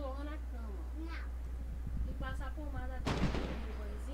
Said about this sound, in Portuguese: Ele tá atirando, ó.